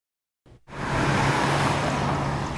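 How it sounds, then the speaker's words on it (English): Cars pass on a road on Madison's Southwest Side, a steady close traffic roar that swells in after a brief quiet start and stays loud, with no talking. "Passing cars are the type of thing we don't often notice."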